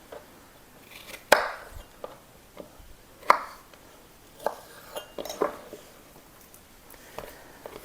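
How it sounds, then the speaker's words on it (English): A knife chops strawberries on a cutting board in a quiet kitchen: sharp, separate thunks at an uneven, unhurried pace, close by with soft clinks between them. "let's chop up a strawberry here"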